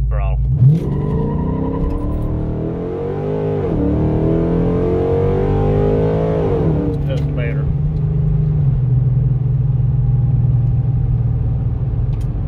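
A built 2008 Dodge Charger R/T with a 3200 stall converter launching on the road, half throttle then full: a loud, close engine rumble rises and pulls hard for several seconds, then settles to a steady drone, with talk over it.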